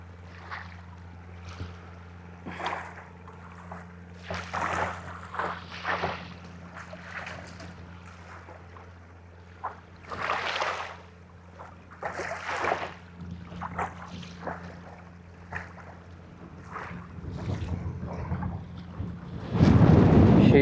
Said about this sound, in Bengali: কত সুন্দর ঢেউ আসতেছে